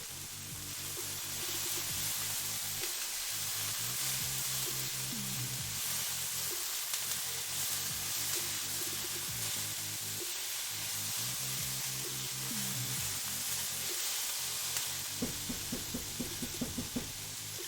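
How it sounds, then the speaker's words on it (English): Instant ramen stir fry with vegetables sizzles steadily in a pan, a constant frying hiss throughout, with soft background music tones and a few clinks near the end. "this does smell like a really good stir fry"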